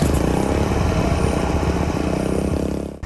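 A Honda Scoopy motor scooter engine runs steadily and close by, a loud continuous buzzing drone that holds for a few seconds before dropping off abruptly at the end.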